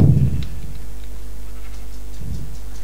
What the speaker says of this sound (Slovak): Ovečky, čaute ovečky, všetky sa strihate, idete na letné obdobie.